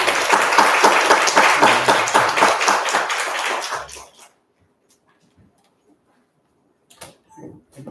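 Warm audience applause welcoming a lecturer at a university special lecture, dense clapping for about four seconds that stops abruptly, followed by near silence and faint shuffling.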